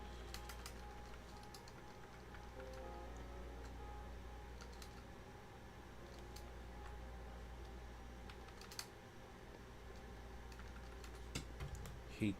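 Keys clacking on a disliked computer keyboard during a game-development session, with irregular clicks and short bursts of typing over a steady low room hum.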